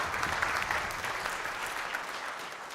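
Audience applause at a silver band concert in an acoustically lively venue, a dense round of clapping that starts strong and slowly tapers, heard from within the hall.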